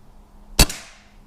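A single sharp crack of a Reximex Ixia .177 air rifle firing and its pellet striking a tin, a brief close impact with a short metallic ring-off and nothing else around it.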